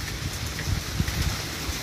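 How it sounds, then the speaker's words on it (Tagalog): Heavy typhoon rain pours down steadily in a dense, hissing wash, with no voices and no breaks in the downpour. "Grabe ang ulan. Walang tigil ang ulan."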